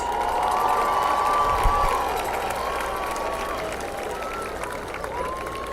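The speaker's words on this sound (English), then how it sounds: "Let's give them all one more big round of applause." Spectators at a high school homecoming football game clap for the homecoming court, mixed with crowd noise and scattered shouts and whistles across an open stadium, fairly steady throughout.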